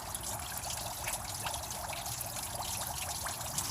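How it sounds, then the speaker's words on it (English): Water running from a rubber garden hose aimed into a K5 crate engine block during a flush, a steady close splashing trickle and gurgle with no speech. "got my rubber garden hose tip aimed right into the block"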